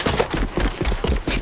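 Rapid DMR rifle fire in a video game, a run of sharp, closely spaced shots over about a second and a half, fairly loud and steady, with no voices over it.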